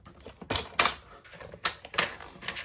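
Paper being cut along a diagonal for a Z-fold card with a trimmer: a short run of crisp clicking and snapping strokes, fairly close and moderately loud, in an otherwise quiet room.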